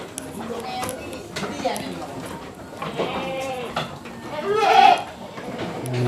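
Etawa goats at a sacrificial-animal sale stall in Jakarta bleat close by, with several wavering calls and one louder, clear bleat near the end, while people talk over them throughout.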